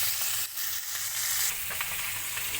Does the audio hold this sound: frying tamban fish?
yes